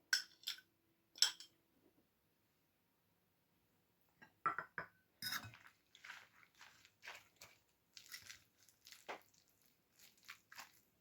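Egg being mixed into syrnyky batter with grated apple in a bowl: a couple of short wet squishing clicks, a pause, then a longer run of soft, irregular, close-up sloshing strokes.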